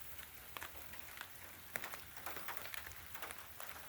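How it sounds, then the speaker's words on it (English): Light drizzle patters softly during a rainy car camp at Anza Borrego, a faint, steady hiss scattered with small irregular drop ticks, quiet and close with no talking. "It's drizzling again."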